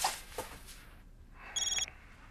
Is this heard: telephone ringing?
yes